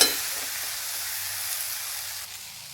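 Garlic and coriander sauté in a hot pan, giving a steady, even sizzling hiss that starts with a brief burst and then settles, with no talking.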